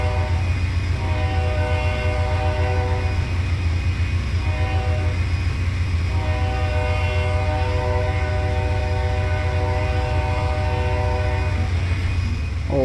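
A coal train in the Trainz 22 rail simulator rumbles past loud and close, its horn sounding in long sustained blasts over the steady grinding of the cars, with no talk.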